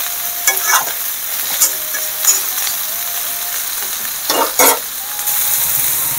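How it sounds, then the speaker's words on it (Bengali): Cumin powder is stirred into a cooking pan with a handful of short, spaced scraping strokes over a soft, steady sizzle. "দিয়ে ভালো করে নেড়ে চেড়ে আমি ঢেকে রাখবো"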